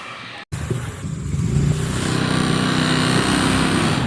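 A Suzuki Shogun motorcycle engine, freshly repaired after crank bearing work, runs steadily with a buzzing two-stroke drone that rises slightly after a brief cut at the start, close and loud.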